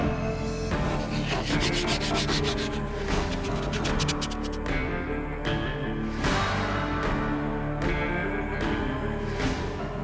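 A wooden sailboat mast being sanded by hand in a tight spot where a grinder won't fit, giving steady close scraping and rubbing strokes that run continuously, with no talk.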